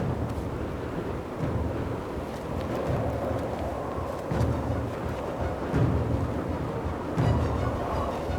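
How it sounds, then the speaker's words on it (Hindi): A strong storm roars with gusting wind and heavy rumbling, deep surges swelling and fading several times in a loud, continuous wash, with no clear separate thunderclaps. "तूफान बहुत तेज है।"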